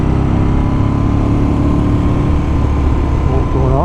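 Motorcycle engine idling steadily while warming up before a ride on winding Auvergne mountain roads, a continuous close low rumble with a faint rise near the end.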